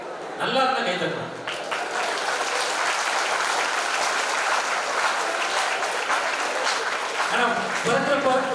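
Audience applause at a college Republic Day debate, a sustained wash of clapping from a crowd lasting several seconds, with a speaker's voice briefly heard at the start and end.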